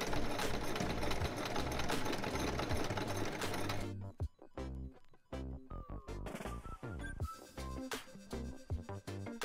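A sewing machine stitches the folded hem of a vintage-style summer dress, a fast continuous mechanical whirr for several seconds, then starts and stops in shorter bursts.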